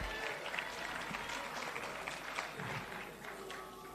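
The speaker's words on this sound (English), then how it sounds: "Let's give him another round of applause" Conference audience at an ANC regional conference in Greater Johannesburg applauding in a large hall, steady moderate clapping that runs the whole time with a faint murmur of crowd beneath it.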